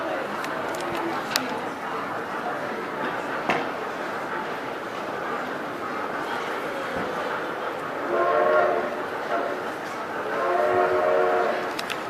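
A train rumbles past steadily, sounding two long, loud horn blasts near the end, with voices murmuring faintly in the background.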